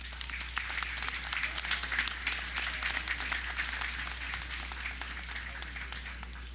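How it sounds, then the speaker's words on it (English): An audience at a National Heroes Day ceremony gives a sustained round of applause, many hands clapping in a dense, even wash that holds steady from start to finish, with a low steady hum underneath. "Another round of applause."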